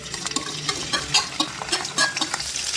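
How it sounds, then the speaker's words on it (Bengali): Chopped ginger and garlic frying in hot mustard oil for lemon chicken, a loud close sizzle broken by repeated scraping stirs of a spoon against the pan. "এটাকে ভালো করে লাল লাল করে ফ্রাই করে নেবো।"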